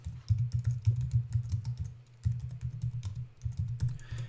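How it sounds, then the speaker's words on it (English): Computer keyboard typing in a quiet room, a near, steady run of quick key clicks in several bursts separated by short pauses, with no voices. "Let's just type in exercise equipment."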